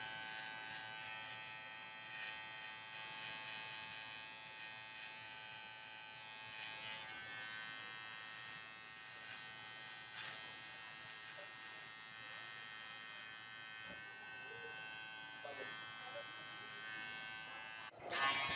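Electric clippers buzz steadily and close by throughout a high taper haircut on kinky hair, a continuous motor whine that ends in a brief louder burst.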